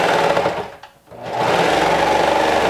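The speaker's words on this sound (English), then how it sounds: "And then I stitch it down with a 1/4 inch seam allowance." A sewing machine stitches a 1/4 inch seam on a size 12 shirt, running in a steady fast whir that briefly stops near the one-second mark before resuming, loud and close with no talking.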